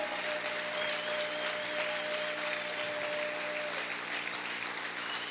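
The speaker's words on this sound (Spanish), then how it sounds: "Aplaude, aplaude, aplaude," A church congregation claps loudly and steadily for the Lord during a worship service, a dense continuous wash of applause with a faint sustained tone running through much of it.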